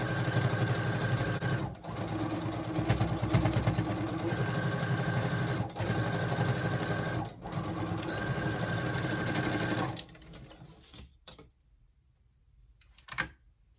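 A sewing machine back-stitching T-shirt fabric hums in a long continuous run broken by a few brief pauses, then stops, leaving quiet handling clicks close by.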